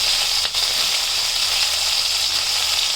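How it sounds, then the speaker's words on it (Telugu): Green chillies fry in hot oil with a continuous close sizzle and spluttering hiss, steady and loud, with one brief dip early on. "జాగ్రత్తగా వేసుకోవాలి అంత పటపట చిల్లుతాయి"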